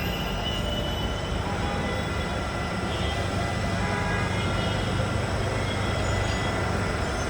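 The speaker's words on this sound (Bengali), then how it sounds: "এই যে একটা ট্রেন চলে আসছে" A train approaches at a station in Bangladesh, a steady loud rumble of wheels and carriages with faint squeals, continuous throughout.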